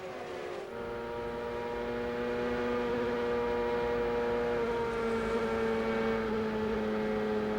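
A 1999 CART Champ Car driven by Michael Andretti at the US 500 sings a loud, sustained engine note with strong harmonics that eases and settles in pitch as the throttle is lifted for the first corner, with no talking.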